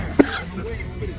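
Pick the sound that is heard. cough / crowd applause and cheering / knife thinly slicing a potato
cough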